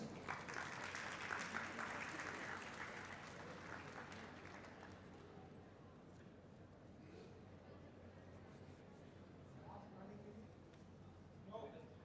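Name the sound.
applause at a regional meet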